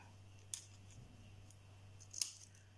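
Scissors cutting a window into paper for a DIY paper house: two faint, brief snips about two seconds apart, over a steady low hum.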